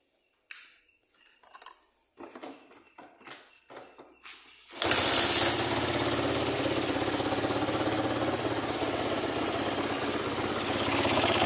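A Suzuki Shogun motorcycle with a PE 24 carburetor starts up after a carburetor adjustment and settles into a steady, loud, close idle that continues to the end, after some faint handling noises.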